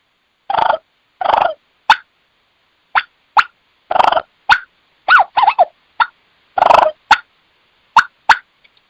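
A turkey call imitates a hen's bubble clucks, making short, soft clucking and purring notes in irregular bursts, each separated by brief silences, close and clear.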